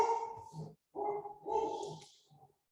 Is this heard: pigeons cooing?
no